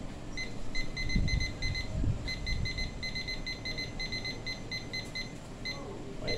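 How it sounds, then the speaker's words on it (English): A timer alarm beeps in quick repeated clusters of short, high electronic tones, fairly clear over a low background rumble and some handling noise, with no one speaking. "I'm going to get my timer. I'm going to set my timer."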